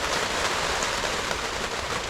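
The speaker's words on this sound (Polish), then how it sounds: "Po czym zaczął padać deszcz." Steady rain falls on a campsite at Krowi Róg near Augustów, a dense, even hiss of drops on surfaces close by with no voices, continuous for the whole stretch.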